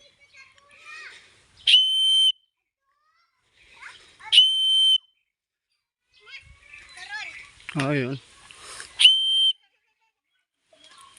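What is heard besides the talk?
person whistling to call animals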